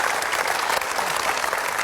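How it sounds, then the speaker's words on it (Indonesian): Audience applause at a celebration honouring a long-married couple and their family, a dense, steady wash of clapping from a crowd, loud and continuous throughout with no pause. "tepuk tangan dulu dong buat semuanya"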